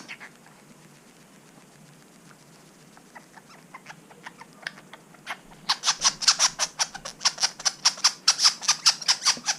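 A pet bird being fed blended live worms from a syringe, squawking in quiet, scattered calls at first, then breaking into a loud, rapid run of repeated harsh squawks close by.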